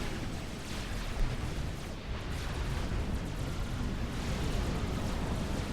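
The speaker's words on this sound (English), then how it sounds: "Attack missiles now incoming from Team 1" Attack missile explosions in a 4 vs 4 Supreme Commander match: a dense, continuous rumbling barrage of blasts with occasional sharper bursts, booming steadily throughout with no voices.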